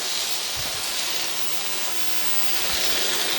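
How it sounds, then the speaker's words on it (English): Kitchen exhaust fan running during stir-fry cooking: a steady, loud broadband whoosh and hiss fills the whole stretch without change, with faint low thumps underneath. "I got the fan going."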